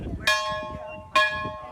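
The old schoolhouse bell at the Sanibel Historical Village rings two clear, bright strokes about a second apart. Each strike is loud and close, then leaves a long resonant hum over a faint background murmur.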